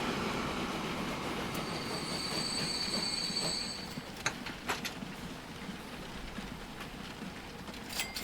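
A freight train carrying bread cargo in the game Transport Fever 2 pulls away with a steady rolling rumble, a high wheel squeal early on and scattered metallic clicks, moderately quiet and with no voices.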